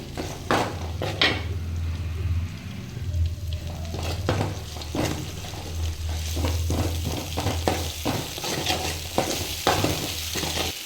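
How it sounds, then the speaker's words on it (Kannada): Onion and masala fry in a pan, a low sizzle broken by repeated scraping and clacking of a spatula against the metal, rhythmic stirring strokes close by, no voices. "ನೋಡಿ ಇದನ್ನ ಚೆನ್ನಾಗಿ ಫ್ರೈ ಮಾಡ್ಕೊತೀನಿ."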